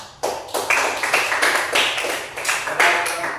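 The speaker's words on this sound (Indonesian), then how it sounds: "Mari kita beri aplaus kepada kelompok 2" A classroom group claps together after a student group's presentation, a dense run of many hands that starts abruptly and holds steady for several seconds.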